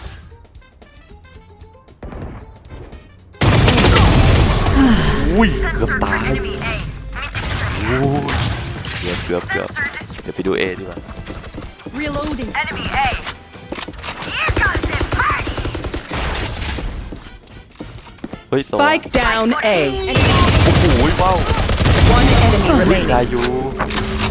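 Valorant weapon fire with the Kuronami skin: dense, loud bursts of shots and metallic mechanism clicks layered with game effects, with people talking excitedly over much of it.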